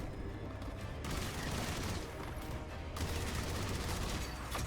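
Rapid, continuous gunfire from the roguelike shooter video game Armatus, a dense, steady barrage of shots with brief surges, loud and unbroken throughout with no talk.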